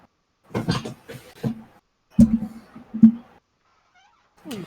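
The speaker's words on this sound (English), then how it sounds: "I'm going to feed the cat quick so he stops." A cat meows several times before being fed, loud and close, with short repeated calls spaced over a few seconds and one more starting at the end.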